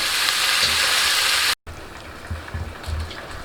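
Steady, loud sizzling of potatoes and eggplant frying in a pan over medium heat, a brief cutout, then quieter sizzling with occasional stirring scrapes.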